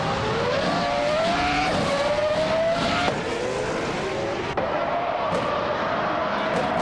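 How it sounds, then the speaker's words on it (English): Race cars in a video game, one a classic 1996 McLaren, launch from the start line, engines whining upward in pitch with continuous roar and some tire noise, under commentary. "Jazel Gaming has shot off the line into the lead"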